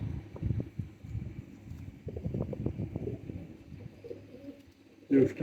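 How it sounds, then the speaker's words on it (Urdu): Pigeons of a Sialkoti breed cooing in soft, repeated low rolling calls, fairly close, with faint handling noise and a brief louder bump at the end. "یہ ہیں چوہے موتی والے کبوتر۔"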